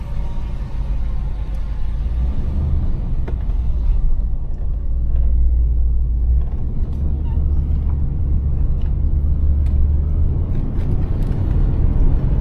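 A 1990 Cadillac Brougham on the road, its steady, loud low engine and road rumble droning continuously with no other sounds standing out.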